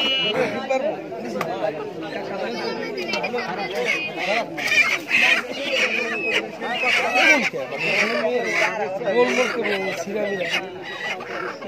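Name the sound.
chickens clucking at a market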